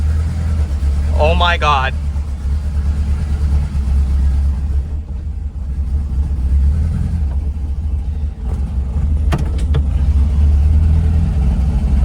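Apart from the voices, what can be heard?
project car engine running as it shifts into drive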